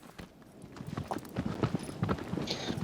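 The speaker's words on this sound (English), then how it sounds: "my horse is being a horse and just sort of like Just walking away" Horse hooves clip-clopping at a walk in Shadow of the Colossus, a steady run of close, distinct hoof strikes on the ground growing slightly louder over a couple of seconds, with no talk.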